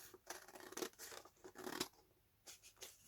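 Scissors snip through a piece of paper during journal crafting, a few short, crisp cuts and rustles with quiet gaps between them, close but faint.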